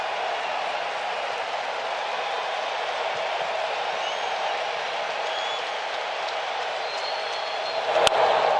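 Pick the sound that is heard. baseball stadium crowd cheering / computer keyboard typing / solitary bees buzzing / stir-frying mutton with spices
baseball stadium crowd cheering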